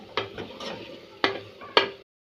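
Curry leaves, ginger and green pepper are stirred in a hot pan, giving three or four sharp scraping strokes over a low sizzle, close up, before the sound cuts off.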